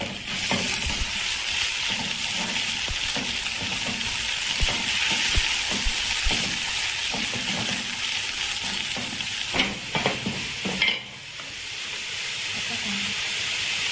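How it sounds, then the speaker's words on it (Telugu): Ginger garlic paste sizzles steadily in a pan for a village-style Rayalseema mutton gravy, a continuous loud frying hiss with stirring scrapes and a brief pause near the end. "ఇప్పుడు మనం జింజర్ గార్లిక్ పేస్ట్ వేసుకోవాలి"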